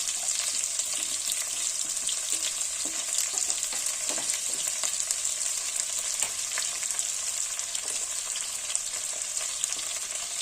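Sliced onions fry in oil in a pan with a steady, close sizzle and crackle that runs unbroken throughout, with occasional light stirring scrapes and no voices.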